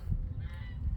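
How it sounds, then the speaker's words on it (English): Farm geese or similar fowl give a rough honking call, close and fairly loud, repeating across a brief moment with low rumbling in the background. "Such beautiful birds."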